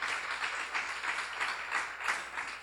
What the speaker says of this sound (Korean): 지금 박수로 하나 둘 셋.